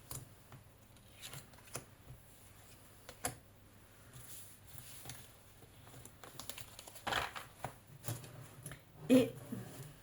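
Voodoo oracle cards shuffled by hand, soft papery riffling and patting at close range with scattered brief bursts that build toward the end, set against a quiet room.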